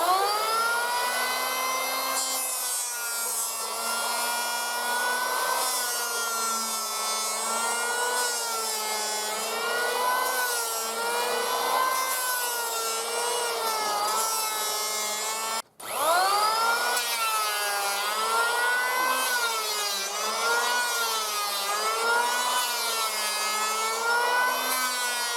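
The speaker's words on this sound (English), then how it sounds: "then it is planed to the correct size that I want so that all pieces are uniform" A power planer or thicknesser sizes lengths of imported pine timber, about ten years old, for beehive nuc lids. A loud, steady machine whine with wavering tones runs throughout, broken by one brief cut-out near the middle.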